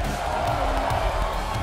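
A big esports arena crowd at a CSGO semifinal in Oakland roars in a steady, dense wash of cheering, loud and continuous throughout, with no single voice standing out.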